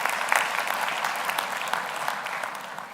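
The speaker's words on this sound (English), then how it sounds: "Can we have another round of applause for the Vice Chancellor?" Steady applause from a graduation ceremony audience at Strathmore University honours the Vice Chancellor, a dense wash of many hands clapping evenly for about three seconds, tapering slightly at the end.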